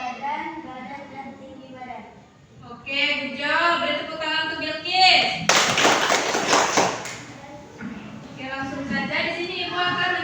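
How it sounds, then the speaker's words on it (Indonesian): A short burst of classroom clapping from primary-school children breaks out midway, loud and dense for about a second and a half, set between stretches of a teacher talking before and after. "Beri tepuk tangan untuk Bilkis."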